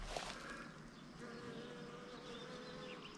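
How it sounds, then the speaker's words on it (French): Bees buzz around a flowering carpet of wild thyme in a herb garden, a steady soft drone from several insects close by with no talking. "Bien prisé des abeilles."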